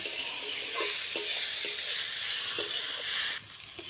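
Flattened rice (poha) is stirred with mustard seeds in a hot pan, giving a steady bright sizzle with several sharp spoon scrapes and clicks, then the sizzle drops quieter near the end.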